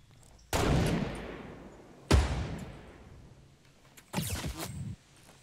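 Gunfire in the Fortnite video game: three separate loud shots, each with a booming echoing tail, spaced a second or two apart.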